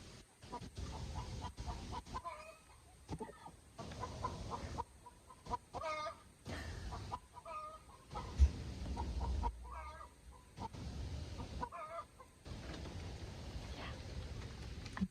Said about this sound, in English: My chicken laid an egg.